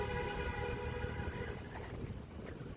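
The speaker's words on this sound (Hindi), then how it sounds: "यहाँ पे मेट्रो आती जाती है।" Metro train running near a university metro station, a steady rumbling roll with a sustained tonal hum, fairly close and continuous throughout with no talking.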